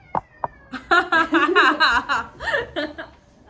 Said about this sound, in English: the reason why I brought Pepper, the kitty, is because I was lost